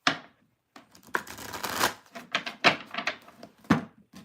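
Playing cards are shuffled up close in a quiet room, a string of soft papery riffling bursts and taps after a short silent pause at the start.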